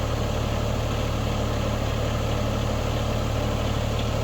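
A County Line 3-point wood splitter runs steadily off a tractor as its ram returns automatically, giving a loud, continuous low engine drone with no breaks.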